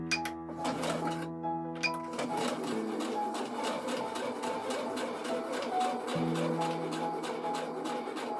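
A sewing machine stitches a dress, running steadily up close with a rapid mechanical whir and repetitive needle ticking that pauses and restarts briefly.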